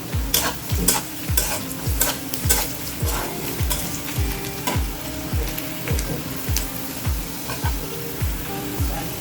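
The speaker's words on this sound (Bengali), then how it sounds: "পেঁয়াজটা তাড়াতাড়ি ভাজার জন্য সামান্য লবণ দিয়ে দিচ্ছি, এতে পেঁয়াজটা তাড়াতাড়ি ভাজা হবে" Sliced onions with a little salt frying in a pan for a chicken gizzard and liver curry, a steady sizzle broken by regular rhythmic scrapes of a spatula stirring, close and clear.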